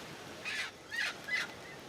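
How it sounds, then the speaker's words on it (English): Guinea fowl call from somewhere out in the wild on a remote island, three harsh rasping cries in a row, moderately distant over steady outdoor ambience. "There's guinea fowl or birds."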